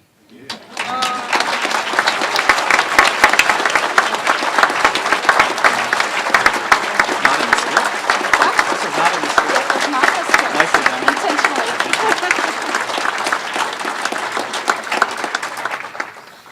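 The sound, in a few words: audience applause at an inauguration ceremony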